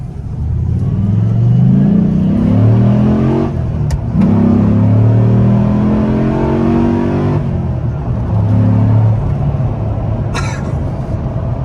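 A 2004 Dodge Ram SRT-10 pickup with its Viper V10 and six-speed manual pulls hard in third gear around 3,500 rpm, a loud, steady, deep engine roar that climbs and holds for several seconds, heard from inside the cab.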